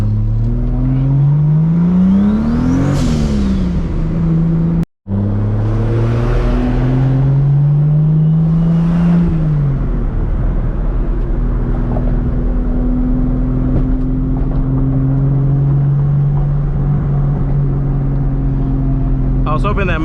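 A tuned Toyota Supra MKIV engine rises and falls through repeated revs and gear changes while driving at night, loud and close from inside the car, with a brief dropout midway and steady cruising drone later.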